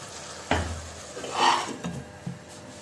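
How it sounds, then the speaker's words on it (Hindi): Spice masala fries gently in a kadai over low heat for jackfruit kofta, a soft sizzle broken by a few close scraping stirs and light clinks of a spoon against the pan. "धीमी आंच पर मसाले को हमने अच्छी तरह से भून लिया है"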